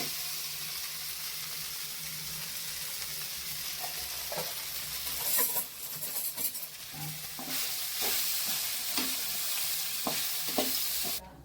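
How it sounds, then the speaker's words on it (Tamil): Crumbled idli upma with sautéed onion is stirred in a hot pan, producing a soft steady sizzle with repeated scraping and tapping of a spatula, growing busier toward the end. "இதை போட்டு நல்லா கிளறிக்கலாங்கம்மா."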